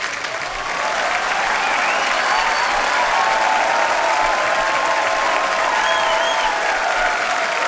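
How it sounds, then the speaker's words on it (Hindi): A studio audience on a comedy talk show bursts into sustained, dense applause to welcome a guest, the clapping building quickly and holding steady at full strength throughout. "आपकी जोरदार तालियों के बीच इनवाइट करना चाहूंगा वेरी टैलेंटेड श्रेयस तलपड़े।"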